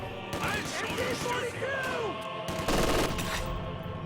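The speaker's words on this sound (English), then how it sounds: "As soon as the MG42 opens up, the riflemen leave the structure." MG42 machine gun fire in a video game: rapid bursts of dense, rattling shots that run through the whole stretch, with a voice speaking over the shooting.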